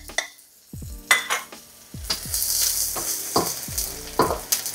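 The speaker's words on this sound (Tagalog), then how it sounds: "maggisa na tayo ng onion and garlic" Onion and garlic sautéing together in a pan for pork hamonado, with loud sizzling and repeated stirring scrapes and clatters of a utensil against the pan, no voices.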